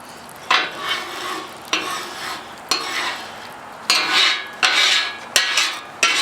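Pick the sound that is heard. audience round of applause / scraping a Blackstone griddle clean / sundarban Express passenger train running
scraping a Blackstone griddle clean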